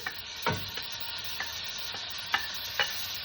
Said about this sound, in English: And I'm going to place the bacon in the pan.